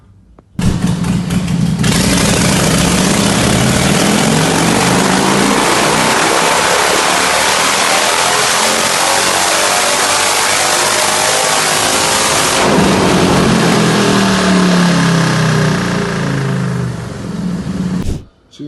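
A supercharged Harley-Davidson Softail V-twin, turning out about 220 horsepower at the wheel on 13-14 pounds of boost, fires up and roars loud and close, its pitch sweeping up and down through hard revs for about seventeen seconds before it cuts off.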